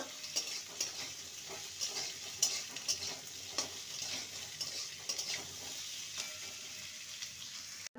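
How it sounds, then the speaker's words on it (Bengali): Onion frying together with potatoes in a pan gives a steady, soft sizzle, with frequent scrapes and clicks of a stirring spoon against the metal throughout. "একসঙ্গে আলুর সঙ্গে ভাজা হয়ে যাবে পেঁয়াজটা"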